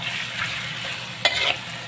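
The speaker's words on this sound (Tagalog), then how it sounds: "Pinaghalo-halo ko na yan guys para habang naluluto yung sibuyas at bawang ay nagigisa na din yung karne" Onion, garlic and meat sautéing in a pan, a steady close sizzle with a few sharp scraping stirs toward the end.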